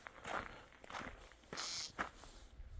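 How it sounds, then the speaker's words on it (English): Footsteps on the ground in woods at night, a series of scuffing, crunching steps at an uneven walking pace, fairly close, with no talking. "I know the sound of my feet on the ground"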